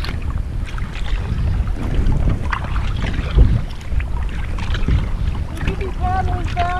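Kayak paddles stroke through the water on the Clarion River on a spring camping trip, with soft rhythmic splashes under steady wind noise and outdoor ambience, plus brief voices near the end.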